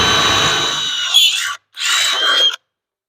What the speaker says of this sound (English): Just drill it out.